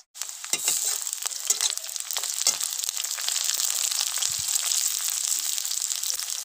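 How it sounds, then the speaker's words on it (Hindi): Masala fries in a pan for a village-style Ghaskat fish curry, a loud, close, continuous sizzle with occasional stirring scrapes and spatters throughout. "चलिए देखें मसाला भून लेते हैं।"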